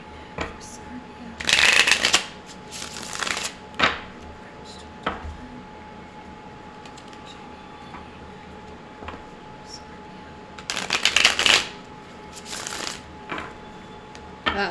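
Tarot cards being shuffled in two loud riffling bursts, with lighter card taps and handling in between, close up during a card reading.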